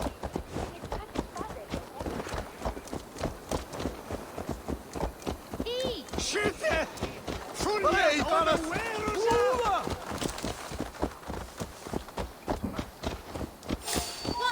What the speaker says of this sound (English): Horses are so damn slow in the cities